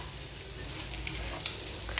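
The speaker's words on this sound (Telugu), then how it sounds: "గుడ్లు పెట్టిన తర్వాత జాగ్రత్తగా ఊడకుండా జాగ్రత్తగా కలుపుకుంటూ 1-2 నిమిషాల పాటు వేయించుకుంటే సరిపోతుందండి" Eggs fry in a hot pan while being stirred, giving a continuous close sizzle with light scraping and stirring clatter near the end, with no voices.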